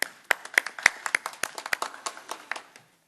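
Short scattered applause from a small audience at a City of Houston mayoral announcement on a new office for domestic violence, close, irregular claps fading out within a few seconds.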